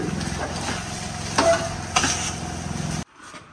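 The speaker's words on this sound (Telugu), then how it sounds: "ఇప్పుడు రిమైనింగ్ మిగతా షుగర్ ని యాడ్ చేసేసుకుందాం. మిక్స్ చేసుకోవాలి." Sugar being stirred into pineapple rava kesari in a pan, a steady scraping and gentle sizzling close by with a couple of louder scrapes, stopping abruptly near the end.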